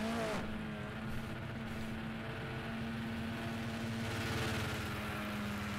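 An engine from a touring car in Project CARS 2, racing at the Nürburgring, holds a steady loud hum with faint pitch shifts from start to finish, and no voices stand out.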